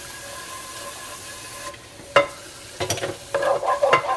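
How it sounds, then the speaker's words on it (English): A frying pan is scrubbed after cooking steak, with a faint hiss at first, then sharp scraping strokes and clattering scrubs in irregular bursts, close and fairly loud, no voices. "let's clean this frying pan"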